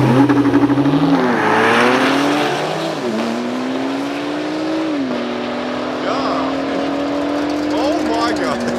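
A Porsche accelerates hard down a drag strip, its loud engine climbing through several gear shifts as it pulls past at close range and its roar stays strong to the end.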